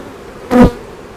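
A single bee, a honey bee at a hive, buzzes briefly and loudly past up close, a short swelling drone that fades quickly against quiet background.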